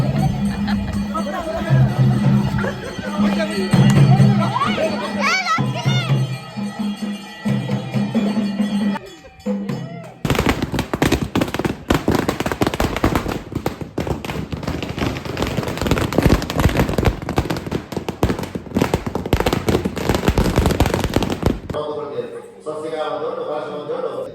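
A long, dense string of firecrackers at a club function crackles rapidly and continuously for several seconds after a stretch of voices and background noise, then stops abruptly.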